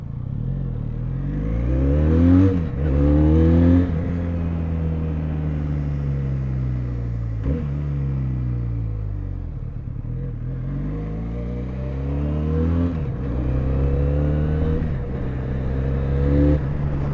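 A Benelli Leoncino 500 motorcycle engine is heard while riding. Repeated rising revs through the gears are each cut by a shift, and a steady throaty drone runs underneath, loud and close with wind, without talk.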